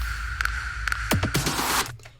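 An impact hit paired with a drum fill closes the buildup of an electronic song, with sharp percussive strikes and a falling sweep swelling into a loud burst before cutting off, no voice present.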